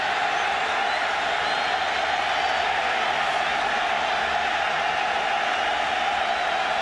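Stadium crowd roaring at a 1997 Michigan vs. Iowa college football game, a dense, even wall of noise from a large distant crowd that stays constant throughout.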